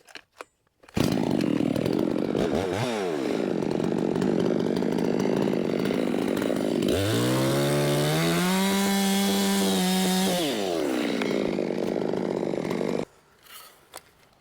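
A 660 chainsaw fires up and roars as it trims the felling cut in a tree. The engine drones loud and steady, then bogs into a lower, wavering tone as the chain bites into the wood, before cutting off abruptly.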